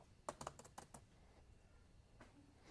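Typing on a computer keyboard, a quick burst of several sharp key taps followed by a pause and a couple more presses, close and fairly quiet.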